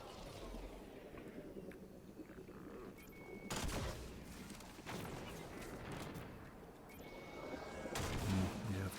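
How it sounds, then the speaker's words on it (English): Rockets fire repeatedly at a boss inside a Destiny lost sector, heavy booming blasts and rumbling explosions, loudest around the middle and near the end, over steady game noise. "I've got plenty of rockets, so I can just continually keep peppering the boss with the rockets"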